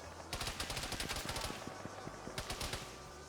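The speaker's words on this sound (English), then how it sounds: "We're getting shot at immediately by a coaxial of some sort." Coaxial machine gun fire in a military video game rattles in rapid sustained bursts, a dense string of fast shots with a brief pause before another burst near the end.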